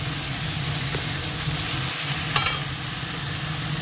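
Meat hits hot oil in a pan with a steady, close sizzle and frying crackle, a sharper burst of spattering partway through, then the continuous fry carries on.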